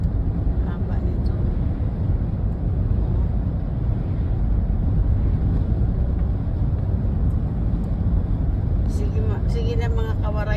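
Traffic on a road in the US makes a steady, loud broadband rumble and roar throughout, with no distinct gaps, as if vehicles are moving at speed nearby.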